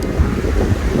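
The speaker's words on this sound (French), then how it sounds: "il y a vraiment beaucoup de vent" Strong wind buffets a camera microphone outdoors beside an Audi RS6, a dense low rumble with gusty thumps throughout the short stretch, no voices.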